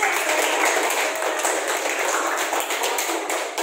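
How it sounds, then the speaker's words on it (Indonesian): A classroom of students applauds a student group, dense continuous clapping that stays fairly even for several seconds before tapering slightly. "kita beri aplaus untuk kelompok"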